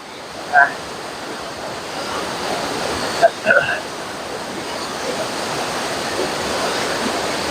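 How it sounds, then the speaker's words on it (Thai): River rapids in northern Sweden rush in a steady, broad roar of turbulent water close by, continuous throughout, with a few brief faint voices or bird-like chirps poking through. "มาเที่ยวแก่งน้ำสวีเดนนะครับ"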